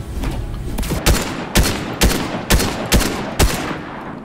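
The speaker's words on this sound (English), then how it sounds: "But I hear shooting." Sharp gunshots from a video game ring out at a steady pace, six loud bursts about half a second apart over a constant background rumble.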